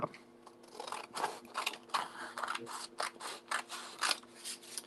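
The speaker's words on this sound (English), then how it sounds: "Get these big scissors and we'll just cut." Large scissors snip through paper in a quick series of crisp, close cuts, irregular in rhythm with short pauses between strokes, heard alone without talk.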